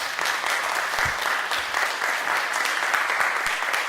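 Steady, full applause from an audience at Bowie State, honouring a group of artists, dense continuous clapping without a break and no talk over it.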